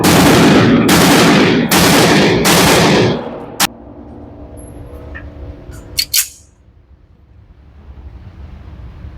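A 1911 single-stack pistol fires at an outdoor shooting range: four loud, evenly spaced shots in the first three seconds, then wind noise and a few faint knocks.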